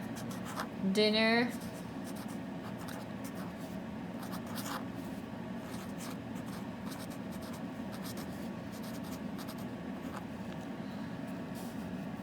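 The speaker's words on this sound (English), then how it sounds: "And here I can write" Pen writing by hand on a paper schedule, a steady faint scratching heard under a continuous low rumble like a train or vehicle interior, with a brief spoken word near the start.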